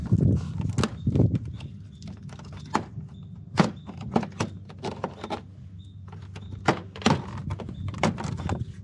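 A plastic honeycomb grille is unclipped from the front bumper of an Audi B8 A4. Close, sharp pops and knocks come in an irregular series, with softer rustling of plastic between them.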